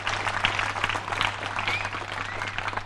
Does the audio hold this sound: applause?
yes